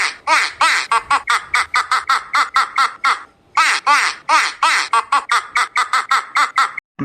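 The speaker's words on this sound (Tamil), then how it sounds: "நான் தான் குவா குவா வாத்து பேசுறேன்." A toy duck gives a rapid run of loud, nasal quacks, dozens of short calls in quick bursts with a brief pause midway, alone with no talk.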